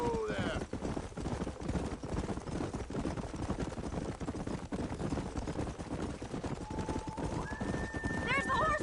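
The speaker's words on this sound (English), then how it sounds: "There's the horses!" Hooves pound in a rapid galloping clatter while horses neigh with sharp, rising whinnies at the start and near the end, over steady rumbling game noise from Red Dead Redemption.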